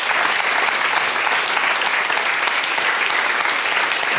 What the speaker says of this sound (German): Wenn ihr noch einen herzlichen Applaus.